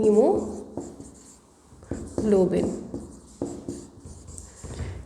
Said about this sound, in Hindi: तो आइए लिखते हैं इसको, हीमोग्लोबिन को कैसे लिखना है आपको